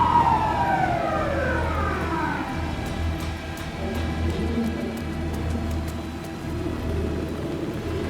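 A police car siren in the game Alan Wake 2 wails in a falling sweep at the start, then fades under a low rumble of traffic and ambient noise.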